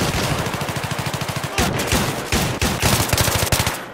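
Rapid automatic gunfire from an AEK rifle in Battlefield 3, loud and close, with steady bursts of evenly spaced shots followed by heavier, irregular blasts and nearby shooting, with no talk over it.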